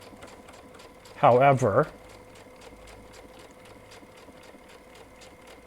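Baby Lock sewing machine with a Teflon ESG-TF foot running steadily while appliqueing leather and pleather, a faint even mechanical hum with regular ticking, briefly covered by a spoken word.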